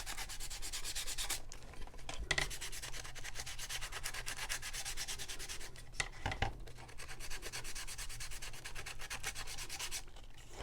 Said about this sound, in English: So I'm going to take the sandpaper and just sand it a little bit heavier in there.